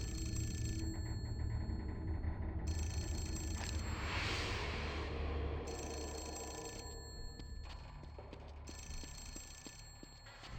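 A telephone rings inside The Suffering: Ties That Bind video game, with repeated bursts of bell-like ringing separated by short gaps, fairly faint over a low rumbling game ambience, with no one speaking.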